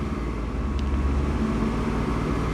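A car engine, caked with years of carbon deposits and burnt mineral oil sludge, idles up at a steady moderate speed around 2,000 RPM, a continuous low rumble filling the space without any talk.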